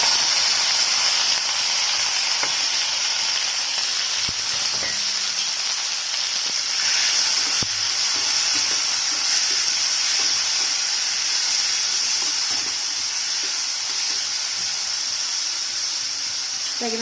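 Capsicum pieces and turmeric frying in about two spoons of oil in a pan, a steady bright hiss of sizzling that holds evenly throughout with a few faint clinks.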